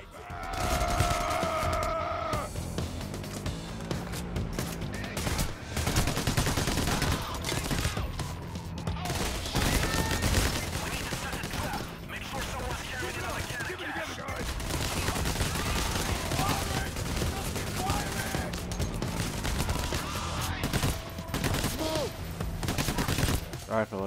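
Sustained gunfire in the shooter game Payday: The Heist during a slaughterhouse heist, dense overlapping rifle and machine-gun bursts firing almost without pause, loud and close, with a player's voice and in-game shouts mixed in.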